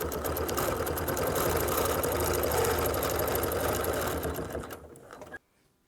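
A sewing machine stitches a row of quilting on a flower quilt design, a loud, close, steady mechanical whir that runs for about five seconds, then winds down and stops.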